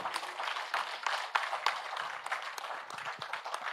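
Audience applause in a Marathi meditation session hall, a dense, steady patter of many hands clapping together for about four seconds, moderately loud and close with no voices over it.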